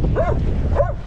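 A dog gives two short, high yipping barks close by in the Florida Keys, spaced about half a second apart, with a low steady rumble underneath.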